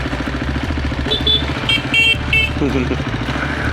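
A few short motorcycle horn toots ring out over a steady engine rumble, with the motorcycle running continuously underneath and some voice-like sounds mixed in.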